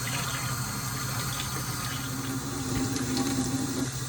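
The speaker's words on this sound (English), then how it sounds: "So we pour our water now." Hot to warm water pours steadily into a bowl of tortilla flour and salt for homemade tortillas, a continuous close liquid gush with no talking.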